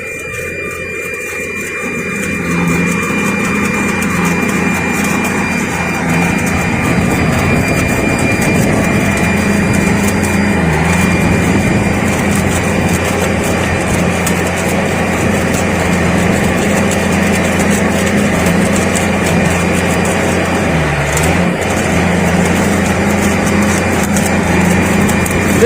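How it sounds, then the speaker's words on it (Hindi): A Chemetron rail welding machine joins rail panels on Indian Railways, starting up after a quiet opening into a loud, steady mechanical roar and hum that stays close and constant, with a brief dip near the end. "ये प्रक्रिया देखिए बहुत ही कम समय में हो जाती है, बहुत जल्दी हो जाती है वेल्डिंग इसकी और बहुत ही फास्ट होती है।"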